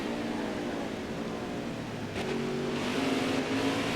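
Race car engine from the NASCAR Heat 4 video game at Watkins Glen, a steady droning whine that rises slightly in pitch near the end, continuous and fairly close with no talk.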